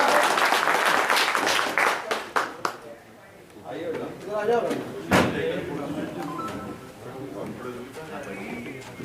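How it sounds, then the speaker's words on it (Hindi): A crowd at a BJP political meeting gives loud applause to welcome a speaker, dense clapping that fades after a few seconds into murmuring voices and movement. "एक बार जोरदार तालियों से स्वागत करें"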